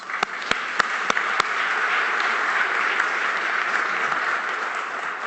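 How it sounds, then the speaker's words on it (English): An audience at a business panel applauds, opening with a few sharp individual claps before swelling into sustained, even applause from a large crowd, moderately distant and without talk. "That's worth a round of applause."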